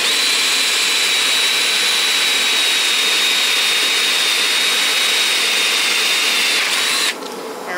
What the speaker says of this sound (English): we got the correct size drill bit for that 1/4 or 5/16 tap